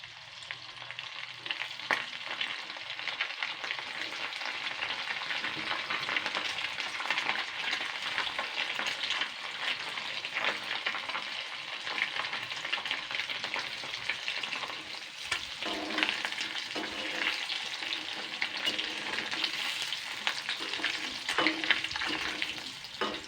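Mourala fish pakora frying in hot oil, a steady dense crackling sizzle held for over twenty seconds, close and fairly loud, with occasional sharper pops and no voices.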